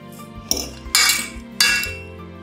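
Spices, a splash of oil and canned tuna with onion being mixed together in a bowl, giving three sharp clinks of a utensil against the dish amid softer scraping.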